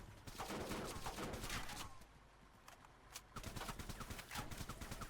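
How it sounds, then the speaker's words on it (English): Rapid bursts of gunfire in the military shooter ArmA III as tires are shot out, repeated cracking shots in clusters with a brief lull midway, fairly close. "I'm shooting down the tires."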